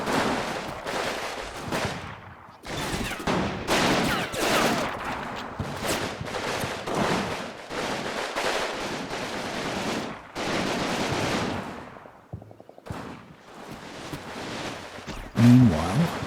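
Gunfire crackles from Germans in woods during a Combat Mission battle, arriving as repeated bursts of machine-gun and rifle fire separated by short pauses, moderately loud and with no talk over it.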